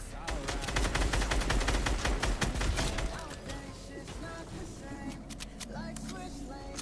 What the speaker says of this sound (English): He shooting rockets at me, bro.